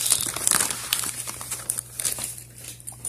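Crinkling and tearing of packaging as vintage Yale locks are unwrapped, close and fairly loud at first, then thinning into scattered rustles.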